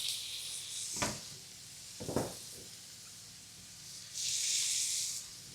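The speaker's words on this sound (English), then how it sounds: "we'll add this to our pan, as well as our onions" Onions hit a hot pan with a sustained hiss, broken by a couple of sharp clanks from a utensil, then a louder burst of sizzling near the end. Nobody speaks.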